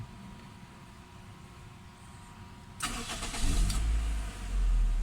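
A Toyota Corolla engine idles steadily, then revs up sharply, its roar rising and holding loud and close.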